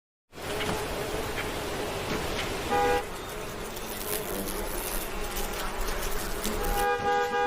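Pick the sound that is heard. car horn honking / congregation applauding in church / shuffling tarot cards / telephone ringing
car horn honking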